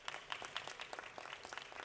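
Audience at an international youth forum on sustainable development and human rights gives a brief round of applause, with individual claps standing out distinctly in a moderately loud patter.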